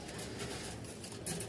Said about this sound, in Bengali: এখানে এক জোড়া কবুতর আছে